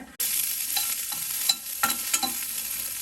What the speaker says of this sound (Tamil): இப்போது வெங்காயம் நல்லா வதங்கிருச்சு.